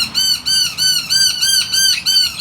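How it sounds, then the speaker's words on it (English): A bird at a sanctuary gives a loud, harsh alarm call, a string of about six rapid, rasping squawks with short gaps between them, close and clear, with no talking. "See, that's the alarm call."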